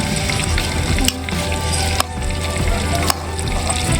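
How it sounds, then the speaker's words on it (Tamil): Creamy chicken simmers in a pan with a steady, close bubbling sizzle. A few soft clicks break through the continuous gentle hiss. "சிக்கனை ஆட் பண்ணிவிட்டு ஒரு 10 மினிட்ஸ் அதை வந்து கொதிக்க விடணும்."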